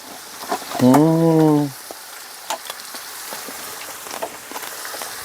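Onions frying in a hot pan with a steady soft sizzle and occasional stirring clicks, faint throughout, with a brief louder harmonic sound early on.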